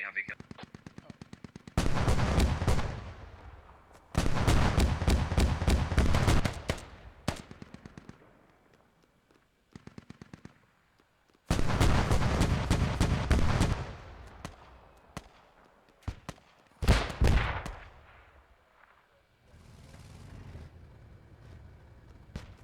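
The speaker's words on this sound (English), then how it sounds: "Enemy heavy gun." A heavy machine gun in the tactical shooter Squad fires in long, loud rapid bursts split by short pauses, with scattered distant shots and faint commentary in the gaps.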